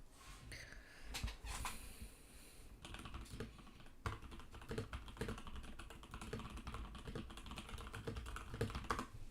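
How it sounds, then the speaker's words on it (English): Fingers tap quickly on a computer keyboard, a soft, close clatter of keystrokes in irregular bursts with short pauses, continuing steadily throughout. "Typing ASMR, yay."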